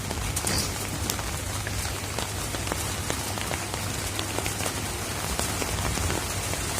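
Steady rain falls on a rooftop area where pigeons are kept, a dense, even patter of drops that runs throughout, with no voices.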